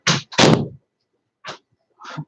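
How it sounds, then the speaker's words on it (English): A door shutting loudly nearby during a livestream, heard as a few sharp, heavy thuds spread over about two seconds with quiet gaps between them, and no talking. "Thanks for that loud door close."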